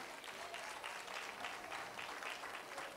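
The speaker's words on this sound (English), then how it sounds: "Would you put your hands together just to give God a round of applause?" Faint, distant applause from a church audience, a soft continuous patter of many hands clapping at low volume for a few seconds, with no clear speech over it.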